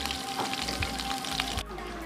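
Quiet, steady crackling sizzle of pork frying in oil, with faint pops scattered throughout.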